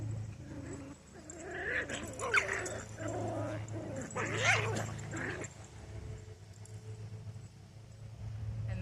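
Playing dogs yip, whimper and give soft barks in a close, fairly quiet scene, with a steady low hum underneath and short bursts of vocalising coming and going.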